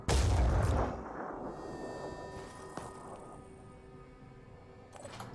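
A heavy weapon fires in the tactical video game Phoenix Point, one loud booming blast that trails off into a long ringing echo and a quieter lingering tail.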